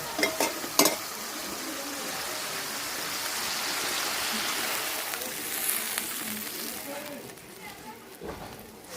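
Spice paste cooking down in a pan for a Bengali village-style festive thali, a steady soft sizzle with occasional stirring scrapes, and a couple of sharper clatters near the start and end.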